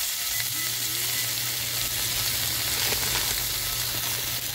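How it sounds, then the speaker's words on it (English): Bacon fries in a pan, giving a steady, close hiss and crackle with scattered pops that holds for the whole stretch. No one speaks. "We're about to just fry up some bacon."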